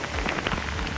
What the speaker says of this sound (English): The trail is white from all the hail. It's coming down really hard now.